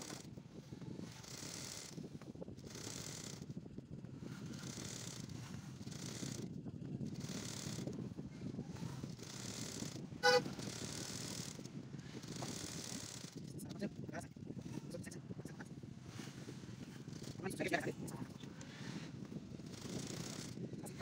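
A sewing machine stitches a gown casing, its steady mechanical whirring running continuously at moderate level with a single brief click partway through.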